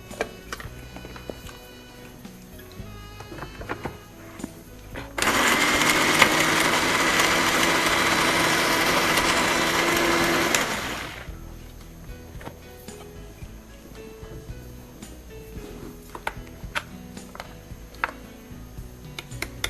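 An electric mixie jar grinds masala ingredients, including soy sauce, in a loud, steady whirring burst lasting about six seconds. Quieter kitchen clinks and ticks come before and after.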